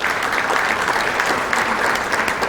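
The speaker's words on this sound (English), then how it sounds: "Let's give them a round of applause." Steady, dense applause from a crowd at a chamber of commerce breakfast welcoming new members, sustained and fairly loud throughout with no talking over it.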